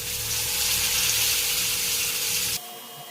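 Fish fries in hot oil with a loud, steady, hissing sizzle that holds evenly, then cuts off abruptly just before the end, leaving a faint hum.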